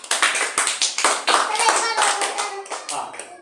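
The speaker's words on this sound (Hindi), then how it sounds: "तालियां बजाओ दशरथ के लिए जोर से।" A class of children clapping for a classmate, a loud, close, uneven run of quick hand claps with sharp individual hits, thinning out toward the end.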